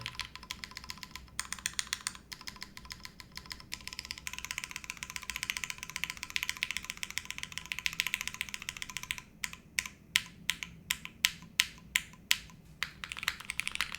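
Typing on a custom-built mechanical keyboard, with steady rapid clacking keystrokes throughout and a run of distinct, evenly spaced heavier key presses near the end, close and clear with no speech.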